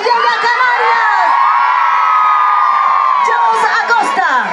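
A large festival crowd at a summer music event in Leganés shouts and cheers together in one loud, sustained roar lasting several seconds, with whoops rising above the mass of voices.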